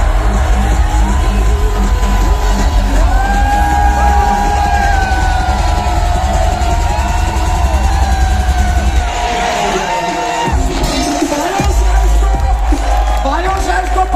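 A large crowd cheers, whoops and shouts at a national convention in Tyagraj Stadium, Delhi, a loud, continuous roar of voices with amplified music underneath and a brief dip in the low end partway through.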